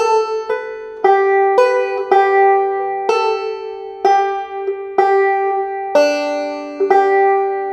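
Plucked notes of Wildwood Flower on a two-finger thumb-lead banjo ring out one after another in a steady, moderate phrase, each attack bright and twangy with a short decay, no voices.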